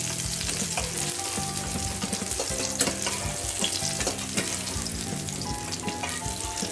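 Pieces of rohu fish fry in hot oil for a curry, a constant dense sizzle and crackle with stirring, heard close and alone without talk.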